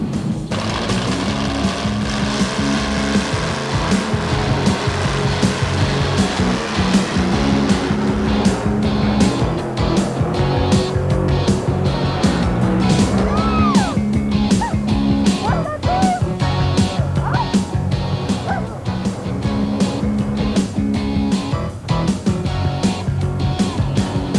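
A 2WD pulling truck at a 1991 truck pull in Philadelphia's Spectrum arena roars at high RPM, its loud engine drone holding steady and continuous throughout with arena noise around it.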